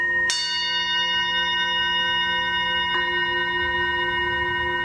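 Singing bowl struck with the wooden side of a mallet gives a bright metallic strike. It rings on as a sustained shimmering tone with many layered overtones, and a second softer strike follows partway through.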